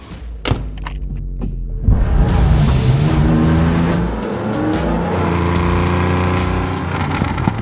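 A rare 3-liter Porsche 911 SC RS, redline 8,000 rpm with lightweight competition internals, fires up with sharp blips, then pulls hard with rising engine revs and a brief tire squeal, loud and close, no talk.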